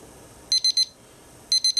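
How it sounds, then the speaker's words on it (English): A kitchen timer goes off while eggs boil on the stove, sounding two quick groups of three sharp, high electronic beeps separated by a short pause over faint room hiss. "I've got the timer here for 8 minutes and go."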